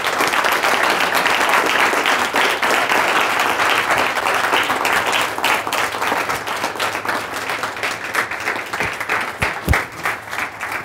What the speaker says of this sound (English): And let's just give up our applause to Chris here